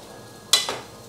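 A frozen sausage hits a hot pan with a sudden short sizzling hiss and a brief squeaky, rubbery second burst, alone against a quiet kitchen background.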